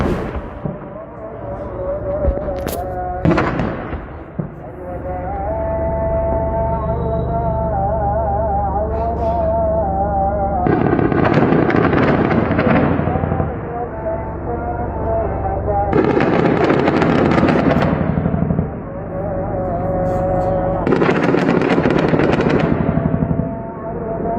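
Gunfire in news footage from Iraq, bursts of rapid automatic shots and sharp cracks in several loud clusters separated by quieter stretches with a lingering low rumble.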